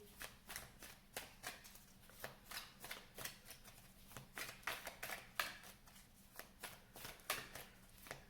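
Galactic Heritage oracle cards are shuffled by hand close up, a quiet run of rapid riffling bursts and soft flicks repeating steadily for several seconds with no talking.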